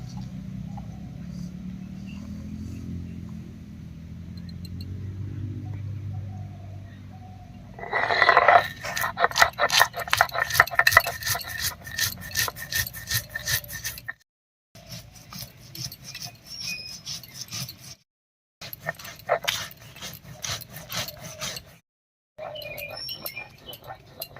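Black mustard seeds, hot green chilies and garlic cloves are ground together by hand on a stone in a village kitchen, giving a steady rough scraping rasp in repeated strokes with brief pauses.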